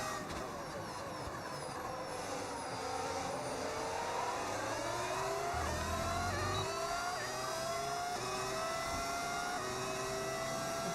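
A modded engine sound in the racing game F1 26 whines steadily through rising and falling gear pitches, with a dense, continuous drone that holds across the whole stretch and has no voices over it.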